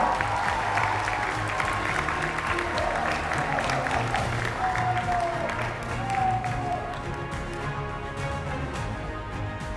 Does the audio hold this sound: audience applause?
yes